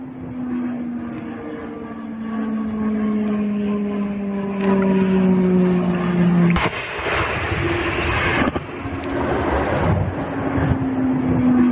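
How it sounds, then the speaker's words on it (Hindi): Airstrike explosions at Spin Boldak on the Pakistan-Afghanistan border: a steady, falling droning tone runs throughout, broken by two sharp, loud blasts a couple of seconds apart. "ये हवाई हमले होते हैं और ये धमाकों की आवाज।"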